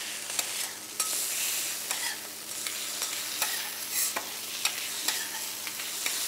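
Japanese teriyaki chicken frying in a pan gives off a steady, close broadband sizzle, with scattered clicks and scrapes as the pieces are pressed and stirred, and no voices.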